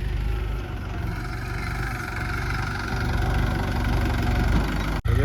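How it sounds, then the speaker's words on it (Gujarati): A tractor engine idles and runs continuously, a low rumbling drone with no talking, briefly interrupted by a short knock near the end. "ટ્રેક્ટર તો હાલે છે"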